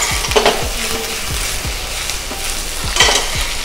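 Spoon scraping rhythmically through a pan of Kerala-style mutton stew, with repeated sharp strokes roughly every half second over a steady low sizzle, close and fairly loud, no voices.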